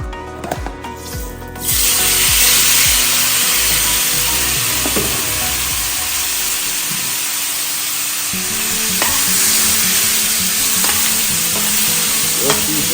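Overnight-marinated curry beef frying in a pan, starting with a few clatters before a loud, continuous close-up sizzle that swells and hisses steadily, broken by occasional stirring scrapes, no talking.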